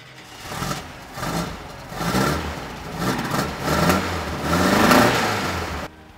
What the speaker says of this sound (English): Then we start the engine one more time so we can check the idle speed on the timing light.